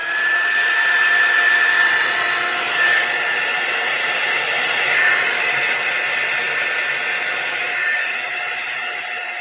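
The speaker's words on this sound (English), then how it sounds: "let me just give that a quick zap with my heat tool" A handheld craft heat tool blows steadily over cut card backgrounds drying slow ink, a continuous airy whoosh with a faint high whine, loud and close for about nine seconds, easing slightly at the end.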